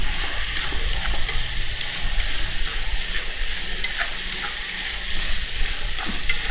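Diced onion stir-fried in a hot pan for a chicken and walnut dish, giving a steady, loud sizzle with scraping stir strokes and crackling spatters throughout, no voices.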